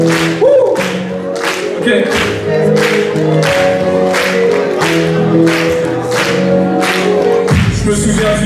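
Congregation at a worship service applauding steadily in rhythmic claps, loud and close, over sustained music or singing; a brief word is spoken near the end.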